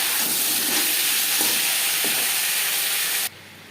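Bata fish frying in a small amount of oil in a pan, a loud, steady broadband sizzle with a few brief crackling pops, cutting off abruptly near the end to a much quieter hiss.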